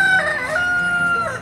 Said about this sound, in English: So my chickens are all free range, but in the mornings I do give them some scratch